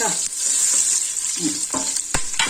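Whole spices such as cardamom and bay leaves frying in hot oil for mutton paya curry: a loud, close, continuous sizzle with brief crackles and a sharp tap near the end.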